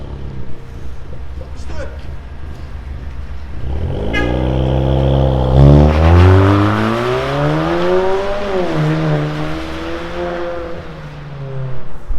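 A VW Golf 8 with the 1.5 eTSI engine and a remote-controlled exhaust revs up from idle, its deep rising and falling exhaust note swelling loud and close over several seconds after a quiet start.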